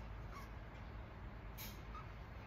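A pet bird lets out a couple of short, faint, harsh calls against a quiet indoor background.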